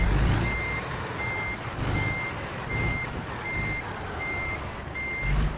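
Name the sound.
truck reversing beeps while parking in American Truck Simulator video game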